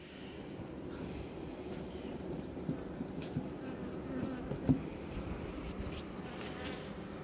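Honeybees in an open hive during spring expansion: a steady low buzzing drone, close and continuous, with a few faint handling clicks and light wind on the microphone.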